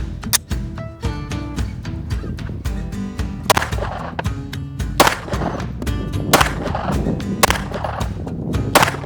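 Gunfire tests an upgraded Spec trigger: a rapid string of sharp, loud shots, closely spaced and irregular, echoing outdoors with mechanical clicks between them.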